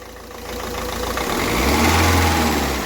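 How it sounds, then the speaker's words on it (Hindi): A Ford Figo engine runs after an injector repair, its close, even idle building into a deeper, louder rev midway through and holding there smoothly. "एक साथ टिक के चल रहा है इंजन"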